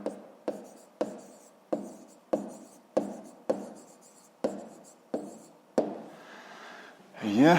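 A pen writes on paper in short, regular strokes, about ten evenly spaced scratches close up, followed by a brief rustle at the end.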